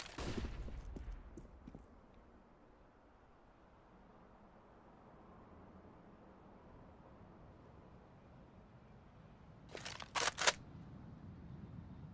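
Counter-Strike: Global Offensive gunfire comes as a few sharp cracks at the start, then a long near-silent stretch. A quick loud cluster of shots follows near the end.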